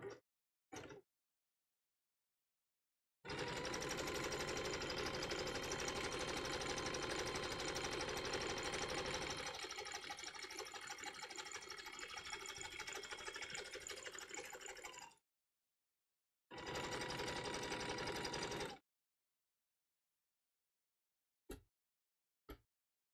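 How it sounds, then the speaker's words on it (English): A sewing machine running a zigzag stitch on a rope basket, a dense mechanical whirring rattle that runs steadily for about twelve seconds, stops, then returns in a shorter burst, with brief clicks around it. "We're supposed to do a zigzag stitch. Zigzag. Engaged."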